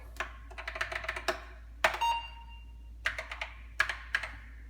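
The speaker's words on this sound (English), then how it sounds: "So now I'm just going to type load and hit enter." Keys on a computer keyboard tap out a short command on an Apple II setup, with quick close clusters of clicks separated by brief pauses and a firmer keystroke or two, with no talking.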